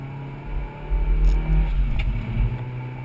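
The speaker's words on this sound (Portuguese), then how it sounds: "Eu tô indo na manha pra esquentar o motor" Engine of a Hyundai i30 Turbo warming up gently, a low steady idle rumble with soft swells of revs and faint clatter, close and alone without speech.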